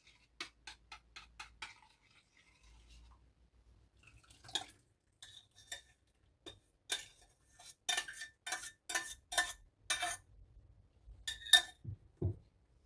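A spoon clinks and taps against a bowl while stirring matsun yogurt mixed with soda, giving a run of quick light scrapes and ticks, then louder, denser clatter in bursts, close and with no talk.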